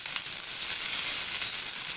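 Mustard greens sizzle in a pan of home-style fried rice, a loud continuous hiss of frying that fills the scene without pause and without any talk.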